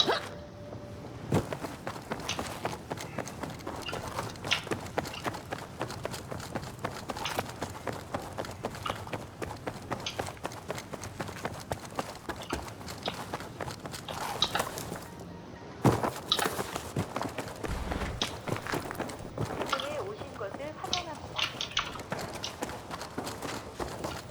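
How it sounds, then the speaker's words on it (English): In Battlefield 2042, rapid, rhythmic footsteps patter continuously at moderate distance, like several players running, with occasional thumps and sharper impacts. "I hear these guys running around."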